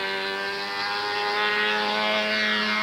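A control-line model airplane engine whines steadily and loudly as the plane flies in circles, a continuous buzzing drone with strong harmonics that rises and falls slightly as it passes.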